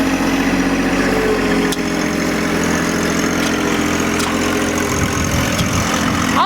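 A John Deere 1025R compact tractor drives over packed dirt, its engine droning loud and steady close by with a few faint clicks and knocks, and no one speaking.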